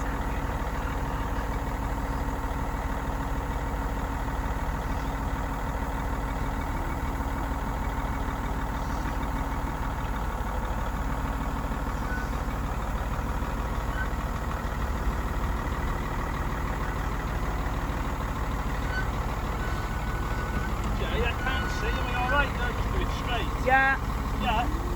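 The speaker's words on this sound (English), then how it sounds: "So, the S-Class is running." Mercedes S-Class engine running at a steady idle on a driveway, a constant low droning hum throughout with a faint clatter near the end.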